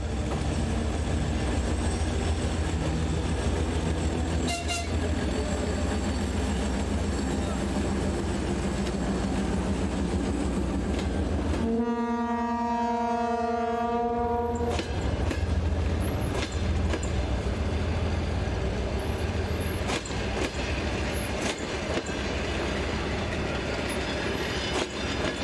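Class M62 diesel locomotive hauling a train out of Vinogradov station, a continuous heavy rumble of engine and rolling wagons, with a loud horn blast sounding partway through.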